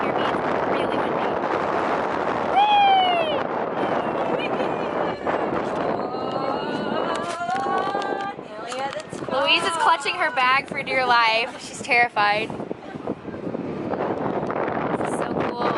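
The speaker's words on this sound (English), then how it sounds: "Sorry if you can't hear me. It's really windy." Strong wind buffets the microphone at Coney Island's Luna Park amusement park, a steady loud rumble running throughout beneath excited talking and a squeal from people on a ride.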